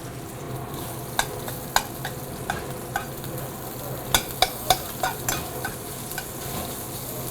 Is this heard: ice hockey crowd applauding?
no